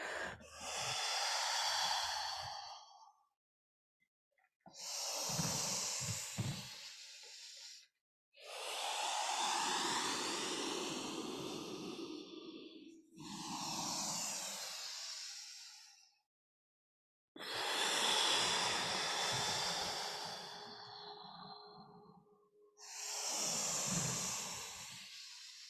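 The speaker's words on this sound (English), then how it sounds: "Just listening really intensely to the breath." Deep rhythmic breathing during a slow vinyasa yoga flow, with six long, loud, airy breaths close to the microphone, each followed by a brief pause.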